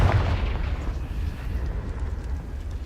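A Confringo spell explosion in the game Hogwarts Legacy: a loud, close, deep blast right at the start, then a rumbling decay that lingers for a couple of seconds with no talking.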